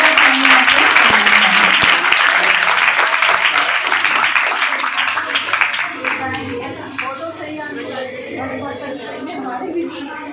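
Children applauding at a Sanskrit competition in Rampur, a loud sustained round of clapping that tapers off after about six seconds, when a voice speaks over the dwindling claps.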